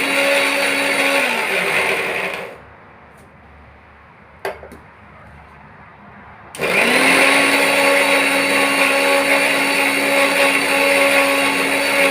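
A kitchen mixer grinder's loud, high-pitched grinding whine runs, stops for a few seconds of near quiet with a brief clatter, then starts up again at full power.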